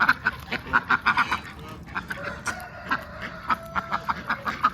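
Damascus ducks on a farm quack in quick repeated bursts, loud and close, a rapid rhythmic chorus that pauses briefly midway before resuming with a steady run of calls.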